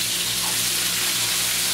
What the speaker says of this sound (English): we'll toss our onions inside. We'll toss our peppers on it.